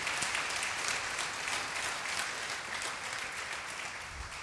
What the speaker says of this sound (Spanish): Que sea más grande